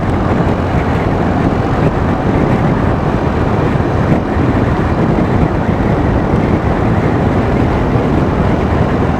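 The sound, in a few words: wind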